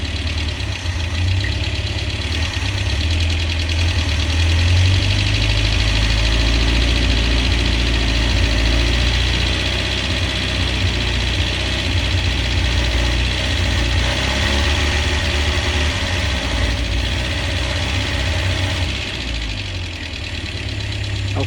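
A Ford Econovan engine idles roughly just after a jump start, a steady loud low rumble with a slightly uneven, knocking beat that sounds close to stalling, with no voices.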